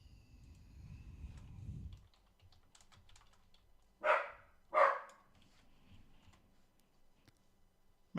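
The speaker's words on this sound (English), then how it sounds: "what are you barking at?" Dog barking indoors, two sharp barks in quick succession that stand out loudly against a quiet room with faint computer keyboard typing, and no talking.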